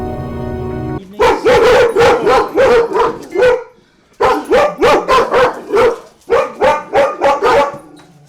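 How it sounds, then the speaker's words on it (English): The neighbour's dog barks in three quick bursts of sharp, loud barks, each run of several yaps separated by short pauses, close and clear with little else around. "The dog next door."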